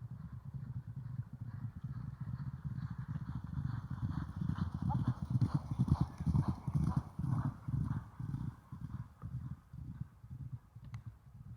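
The racehorse Calandagan gallops in training ahead of the King George at Ascot, its rhythmic hoofbeats pounding steadily, growing louder mid-way then easing, with faint voices in the background.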